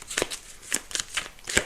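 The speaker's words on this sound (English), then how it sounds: "So as I shuffle the cards, ask your yes or no question." Tarot cards are shuffled by hand, a quick run of crisp riffling bursts close up with short gaps between them.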